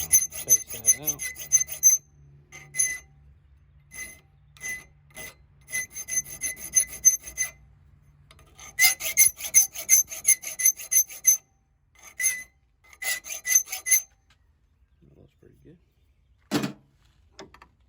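Hand file rasping along the edges of a forged trail knife to true up its lines, in repeated bursts of rhythmic scraping strokes separated by short pauses, close and fairly clear, with a voice speaking in between.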